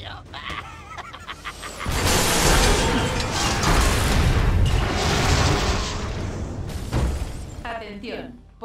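A loud, sustained explosive rumble with crashing debris in Lego Marvel Super Heroes, preceded and followed by mechanical clatter, dense and booming for several seconds.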